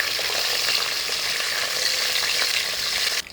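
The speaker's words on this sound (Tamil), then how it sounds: "சேர்த்துட்டு ஆயிலில் லைட்டாக ஃப்ரை பண்ணிக்கலாம்" Cashews fry lightly in oil with a steady, close crackling sizzle that holds evenly throughout, with no voices.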